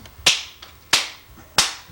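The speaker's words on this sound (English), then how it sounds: "I'm going to clap my hands and you holler" Three sharp, evenly spaced hand claps ring out alone indoors, each a crisp slap meant to sound like a spanking, with a short decay and quiet pauses between them.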